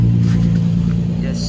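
A car fitted with a swapped-in 350Z engine cold-starts and settles into a loud, deep, rumbling idle, close by and steady.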